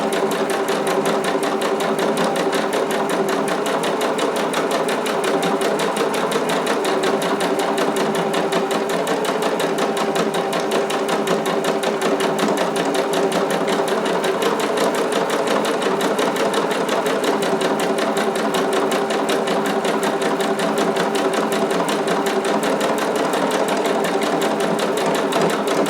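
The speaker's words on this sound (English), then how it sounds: "I'm just going to start stitching a test button to see what" A modern sewing machine stitching a test button on a Vogue 2530 garment, a loud, steady rapid mechanical whirr and needle clatter running without pause, close up and alone.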